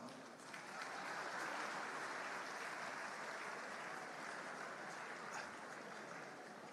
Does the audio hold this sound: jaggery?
no